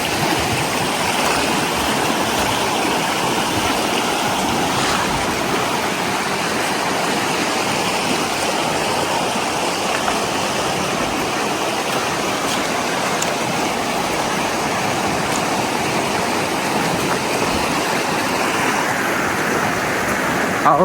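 A rocky mountain stream on the trail from Pathari to Letang rushes steadily over stones, a dense, continuous close-up roar with no breaks and no voices.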